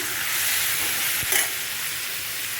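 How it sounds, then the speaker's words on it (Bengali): Tomatoes cook down in a pan with pumpkin, long beans, turmeric and salt, giving a steady moderate sizzle and hiss with a brief clatter of stirring midway. "টমেটো দেওয়া হয়ে গেছে, কষছি এখন আমি।"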